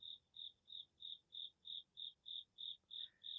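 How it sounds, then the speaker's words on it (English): Crickets chirp outdoors at sunrise in a steady run of about eleven evenly spaced pulses, clear and close, with no voices. "Dang, those crickets are loud."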